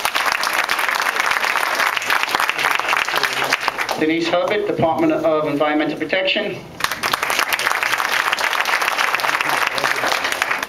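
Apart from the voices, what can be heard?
town hall audience applause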